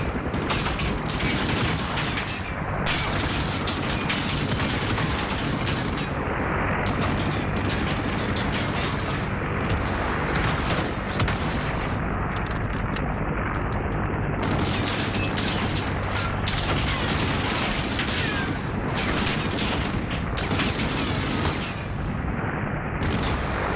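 Continuous, dense gunfire fills a Call of Duty Modern Warfare Spec Ops co-op match, with rapid shots and bursts layered over loud, sustained combat noise and no pauses throughout.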